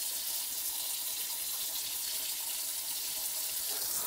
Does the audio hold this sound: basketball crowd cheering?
no